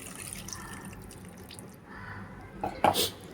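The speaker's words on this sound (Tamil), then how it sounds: "இப்போது கரைச்சி வச்ச புளி குழம்பு ஊற்றிக்கலாம்." Dissolved tamarind water poured into a dried anchovy fish curry, soft trickling and splashing liquid with a few brighter splashes near the end, quiet and close.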